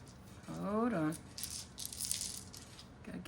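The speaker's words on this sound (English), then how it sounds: "Gotta get all the dice out." Dice rattle and tumble out of a dice tower in a series of quick clattering bursts after a voice speaks briefly at the start.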